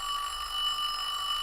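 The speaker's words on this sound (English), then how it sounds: "I'll ring the bells for 1 minute." Parliamentary division bells ring in a continuous, steady electric peal, loud and unbroken, with no voices over them.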